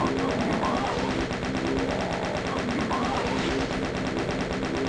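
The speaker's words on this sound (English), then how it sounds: "That we can chain gun the last one" A chaingun in the video game Voxel Doom 2 fires in a dense, unbroken burst of rapid shots. It stays loud and steady for the whole stretch with no voices over it.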